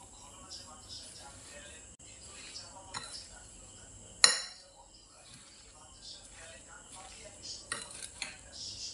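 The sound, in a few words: mixing raw mango pieces with sugar and salt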